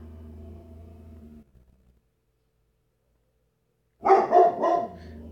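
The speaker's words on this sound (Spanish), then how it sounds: "el perro sigue ladrando" In the Free Fire video game, a dog barks three times in a quick close burst after a low droning hum fades into silence.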